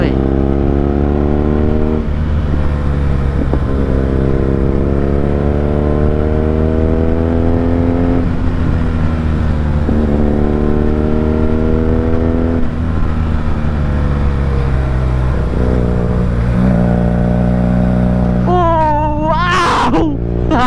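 A BMW R nineT motorcycle accelerates hard under throttle on twisty mountain roads, its engine rising in pitch through several gear-like sweeps, loud and continuous with wind roar, then a brief high whine near the end.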